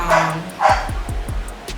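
A dog barks repeatedly nearby, with two louder yelping barks followed by a quick run of sharp, evenly spaced barks over a steady low background hum.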